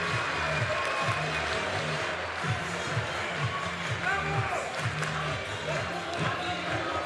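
An outdoor crowd at a 3x3 basketball finals cheers after a score, a steady wash of noise with rhythmic chanting and music beneath, while a commentator talks over it.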